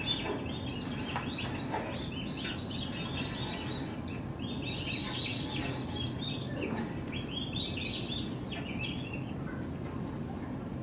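Young standard bronze and royal palm turkeys peep and chirp continuously in a crowded indoor pen, many overlapping high calls over a steady low rumble of background noise.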